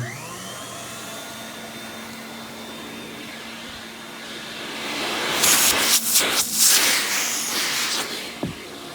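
A 1970s Rainbow D2 Chrome Dome canister vacuum cleaner, fitted with a hose it was not originally designed for, switches on with a rising whine. It settles into a steady motor drone, then loud bursts of airy rushing follow as the suction works.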